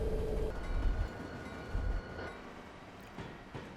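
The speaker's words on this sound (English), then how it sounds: "let's just go ahead and stop the train." Simulated commuter train on the North Jersey Coast Line in Train Simulator 2020 rolling to a stop at a platform, a steady low rumble with heavier thumps early that gradually settles and fades, no talking.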